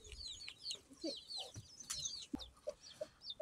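A brooding mother hen with eleven chicks clucks in short, repeated calls close by, mixed with higher chirps and peeps from the chicks throughout.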